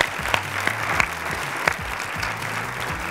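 Audience applause fills the hall at a gala concert of a national singing contest. Steady, even clapping from many hands carries on throughout, with a few sharper claps standing out and a low tonal hum underneath.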